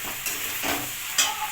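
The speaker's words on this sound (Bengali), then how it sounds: "এক মিনিট আমি পাস্তাটা নাড়াচাড়া করে নেব" Pasta tossed with chicken masala is stirred in a hot pan: a steady sizzle with a few soft scraping strokes, close by and without voices.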